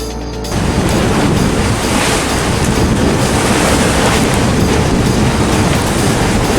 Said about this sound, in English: it's white capping pretty hard out here